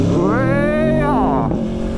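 A 2019 Aprilia Tuono Factory motorcycle engine revs hard and loud up close, its pitch climbing then dropping as the throttle eases off.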